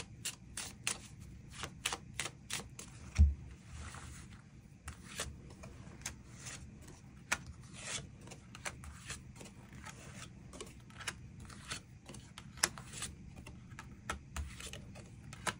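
Tarot cards shuffled and drawn, heard as a string of soft, close snaps and flicks with short gaps between them, faint against a quiet room, with no talking.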